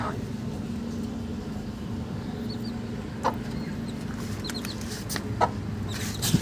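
A chicken clucks faintly now and then amid steady background noise, with a few brief sharper calls near the end.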